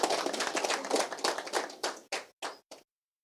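Applause from a crowd at a public political event in Kenya, a burst of clapping that thins into a few separated claps and then stops.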